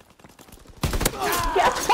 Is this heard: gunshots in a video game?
yes